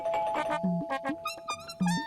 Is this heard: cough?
no